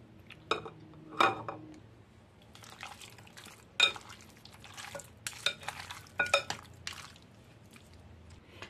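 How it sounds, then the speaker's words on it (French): Raw pork belly is stirred with garlic-and-shallot-scented oil, giving close, wet squelching mixing sounds broken by several sharp clinks of a utensil against the bowl, alone without voices. "Je vais verser de l'huile que je vais faire cuire l'ail et échalote tout à l'heure dans la viande. Et je vais mélanger encore."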